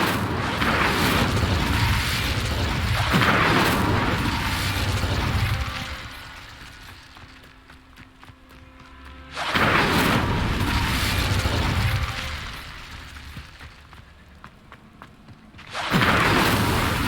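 A fire spell cast in Hogwarts Legacy erupts as three loud, booming whooshes, each swelling and then slowly fading, spaced several seconds apart.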